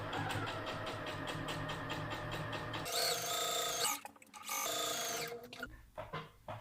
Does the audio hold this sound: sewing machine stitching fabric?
yes